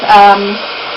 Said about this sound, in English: my heat gun's quite loud